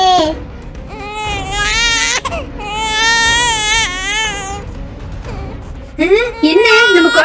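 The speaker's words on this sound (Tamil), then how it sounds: "என்ன நம்ம குழந்தை அழுதுகிட்டு இருக்கு." A baby cries and wails continuously in loud, wavering sobs that rise and fall, swelling into sharper cries near the end, with a voice mixed in.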